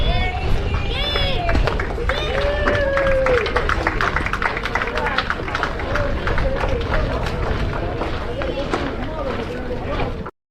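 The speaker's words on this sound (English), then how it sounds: "It's actually kind of funny that there's applause of any kind at Pirate City" Scattered applause and crowd murmur from onlookers at Pittsburgh Pirates spring training at Pirate City, a steady busy wash of clapping and chatter heard from a distance throughout, with no clear speech on top.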